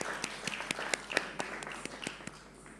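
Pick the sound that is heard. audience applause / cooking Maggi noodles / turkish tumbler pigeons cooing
audience applause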